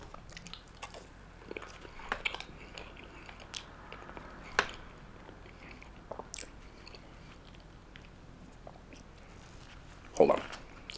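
Chocolate baklava cheesecake from a Halal Guys menu is bitten and chewed in quiet, scattered crunches and soft mouth sounds, with a louder, sharper bite near the end.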